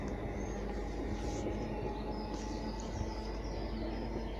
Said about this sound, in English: There's another train arriving at the station now.